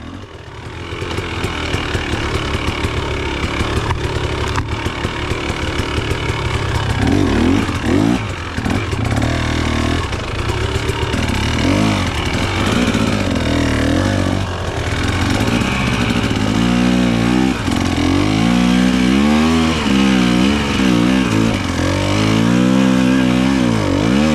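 An off-road XC motorcycle without a radiator fan rides woodland trails in spring, its engine droning loudly and continuously close by, with repeated revs and throttle swells and some rattling clatter throughout, with no talking.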